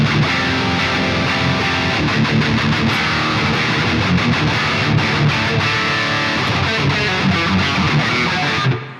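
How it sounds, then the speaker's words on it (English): An electric guitar plays through a Bogren Marshall amp simulation with the gain turned all the way up, giving a dense, loud distorted tone that carries on without a break for about nine seconds. "Okay, let's go ahead and crank the gain and see what we get out of this."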